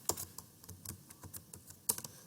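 Quick, irregular keystrokes on a computer keyboard while entering text into web project code, close and crisp, with short bursts and a louder clack near the end, no voices.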